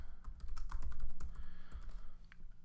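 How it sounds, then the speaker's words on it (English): Quick, uneven keystrokes on a computer keyboard tap out a short burst of typing into a search field, close and fairly quiet with no voices. "You want to type in Google Analytics"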